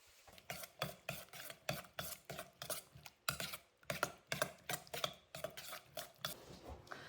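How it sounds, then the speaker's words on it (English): A ground beef mixture is stirred in a bowl, a quick series of soft, rhythmic scraping and clinking strokes, close and fairly quiet, with no talking. "I just want to give my ground beef mixture a quick little stir."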